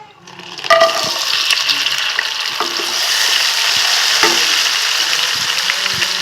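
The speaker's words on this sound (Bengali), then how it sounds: "সেই মাছগুলো এবার ভেজে নেবো" Small crabs fry in hot oil in a home kitchen, starting with a sharp burst of sizzling and then settling into a steady, loud crackle, with occasional clicks of stirring.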